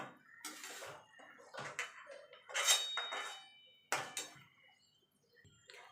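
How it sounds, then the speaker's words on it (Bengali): A kadai wok is rinsed and scrubbed at a sink, giving quiet, intermittent metallic clatters and clinks with splashes of water between them. "আমি কড়াইতেই রান্না করব তার জন্য কড়াইটা পরিষ্কার করে নিয়ে আসবো"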